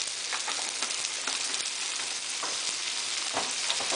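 Onion and garlic frying in a small amount of oil for vegetarian lumpia, giving a steady crackling sizzle with scattered pops throughout, close and fairly quiet.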